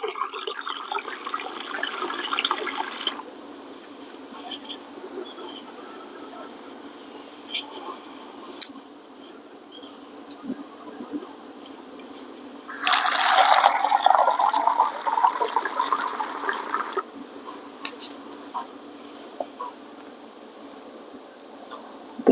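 Water pours into a reused food container holding tomato seeds in two short bursts, one at the start and another midway, with quiet handling and scattered clicks between.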